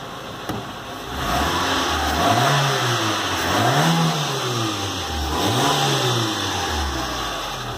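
A Renault Logan 1.0 16v fitted with a sport air filter revs up in three rising and falling pulls, the mid-pitched engine note loud and close with no talk.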